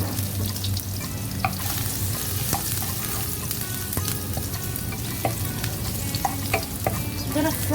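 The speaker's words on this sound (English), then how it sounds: "So I'm going to fry the garlic for a bit." Garlic fries in oil in a pan, a close, steady crackling sizzle with scattered pops and a few light stirring scrapes, loud and uninterrupted.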